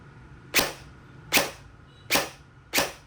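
A Poseidon Theseus airsoft AEG with Medusa ETU and built-in tracer fires four sharp single shots nearby, spaced at an even, unhurried pace with quiet between each crack.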